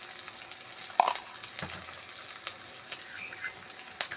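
Green chili, ginger and cumin masala fries in a pan, a continuous near sizzle broken by sharp spatters and a couple of clinks from utensils.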